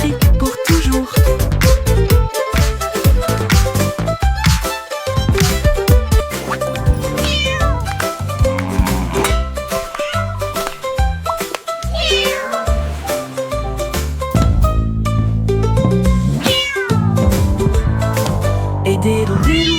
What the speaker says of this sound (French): Le chat miaula bruyamment puis attaqua une fois de plus